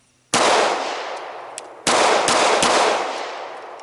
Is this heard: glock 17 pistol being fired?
yes